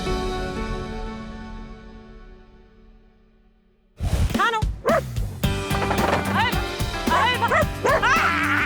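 A collie barks repeatedly and excitedly in a run of sharp yips and woofs, loud and close, after a quieter stretch of fading music.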